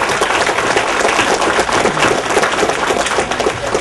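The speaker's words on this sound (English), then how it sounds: "Please give me a round of applause." Loud, dense applause from an audience honoring veterans at a political speech in Virginia, continuous clapping close by with no break for the full few seconds.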